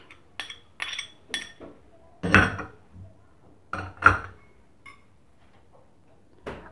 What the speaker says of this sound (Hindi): बाउल लेंगे, इसके अंदर टमाटो पलट लेंगे, ऑनियन पलट लेंगे, हरी मिर्च पलट लेंगे